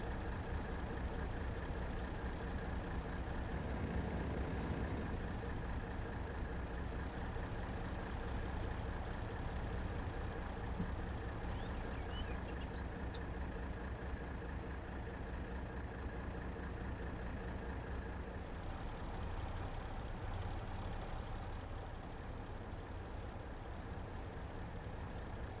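A truck on a British farm map in a video game drives and backs up, a dense, constant engine drone at close range with a faint beep now and then, with no talking.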